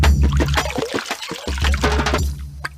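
Water is poured to fill clay pots, giving a loud, continuous splashing gush close by that briefly breaks off and then resumes, with no speech over it.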